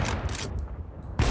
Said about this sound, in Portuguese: E dando dois disparos rápidos, seguidos, o inimigo não vai conseguir escapar.